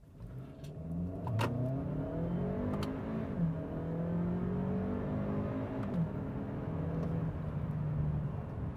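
A 2017 Kia Sportage with a 2-liter turbo engine accelerating, a steady rising engine drone with whirring tones climbing in pitch, heard from inside the cabin at moderate level.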